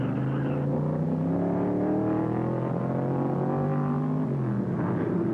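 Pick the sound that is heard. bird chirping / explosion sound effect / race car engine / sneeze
race car engine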